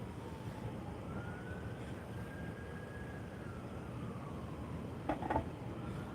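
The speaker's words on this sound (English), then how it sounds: "I hear sirens." A siren wails faintly in the distance over a steady city rumble, one long rising and falling tone drifting across the scene outdoors in Denver.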